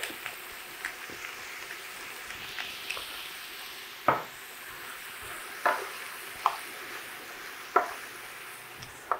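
Bacon and mushrooms cook in a pan, giving a steady soft sizzle and crackle with a few sharper pops and clinks of a utensil stirring at intervals, no voices over it.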